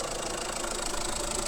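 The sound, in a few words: Tata Harrier diesel engine idling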